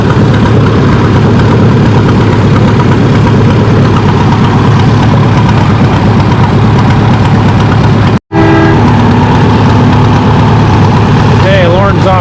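A Farmall 560 tractor at a tractor pull, weighted up on a 6,500-pound sled, makes a loud, continuous heavy engine roar throughout, with a brief dropout and then whining tones near the end.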